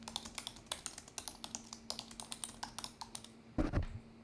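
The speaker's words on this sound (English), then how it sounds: "I can't type on this keyboard" Someone types on a computer keyboard in a brisk, uneven patter of close key clicks, ending in a louder thump.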